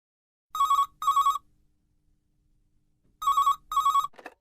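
A telephone rings two double bursts before a call, each pair of electronic trills loud and clear, with a silent gap between the pairs and a short click at the end.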